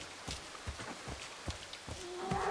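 Hooves of a ridden horse in Assassin's Creed III plod in an even, moderately close walking rhythm, with a faint high game tone near the end.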